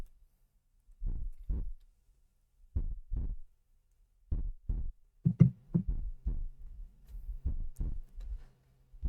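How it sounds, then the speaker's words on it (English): Slow, steady heartbeat effect from a horror exorcism video game as the final confrontation with a demon begins, paired lub-dub thumps repeating alone at a regular rhythm with a faint low hum underneath. "Just heartbeats as we go in for the final confrontation."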